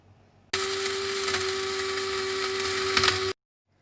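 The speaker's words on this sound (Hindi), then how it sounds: "सबसे पहले बादाम काजू और पिस्ते को पीसेंगे और साथ में नारियल को भी डाल देंगे" An electric grinder whirs steadily for about three seconds, grinding almonds, cashews, pistachios and coconut, loud and close with a constant motor tone, then cuts off abruptly.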